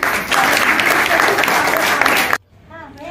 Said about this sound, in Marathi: तुमच्यासाठी पण एकदा टाळ्या होऊन जाऊ द्या